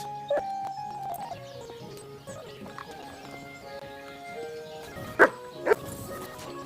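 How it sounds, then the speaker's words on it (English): A dog barks in the medieval game Kingdom Come Deliverance II, a few scattered yaps early then two loud sharp barks near the end, over quiet game ambience and music. "Oh, you pooch. Here, mutt."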